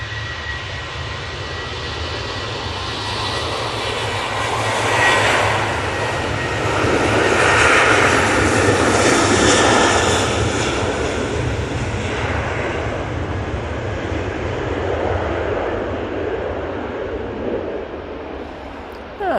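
A Boeing 737-800 jet takes off from Manchester Airport, its engine roar building from a distance to a loud, broad peak with a tonal whine, then slowly fading, with no voices over it.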